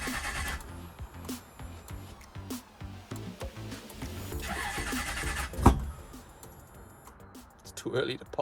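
A Toyota 1UZ V8 fitted in a Ford Focus cranks and catches on a cold start, with a sharp pop and rough idle following, while people talk nearby.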